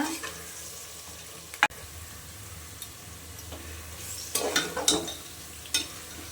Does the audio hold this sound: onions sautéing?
yes